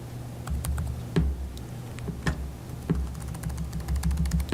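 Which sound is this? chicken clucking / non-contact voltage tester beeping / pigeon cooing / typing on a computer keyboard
typing on a computer keyboard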